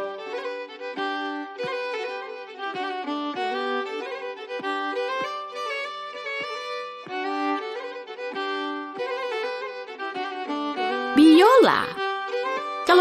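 Solo violin playing a lively melody, bowed notes in a quick, continuous line, close and clear, ending in a brief rising slide near the close.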